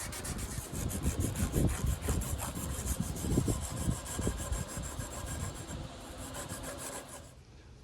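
Sandpaper rasps by hand along a ball bearing Damascus steel karambit blade in steady back-and-forth strokes, close and continuous, easing off near the end.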